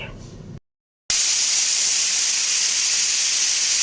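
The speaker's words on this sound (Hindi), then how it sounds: "यहाँ पे कुकर में सुबह सुबह सीटी लगते हुए" A kitchen pressure cooker whistles at morning, releasing a loud, steady, high-pitched jet of hissing steam that runs on continuously after a brief cut.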